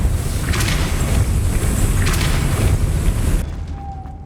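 A Depulso spell cast in Hogwarts Legacy lands as a loud, deep booming blast with a rumbling low end, holding for about three seconds before cutting off into near silence and a faint thin tone.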